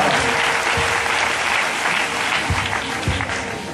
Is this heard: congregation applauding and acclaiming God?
yes